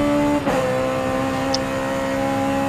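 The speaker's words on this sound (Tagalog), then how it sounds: "Nag-drift yung sasakyan." A car drifting in the racing game Forza Horizon 5, a steady loud engine drone with a brief swell near the start, heard alone without talk.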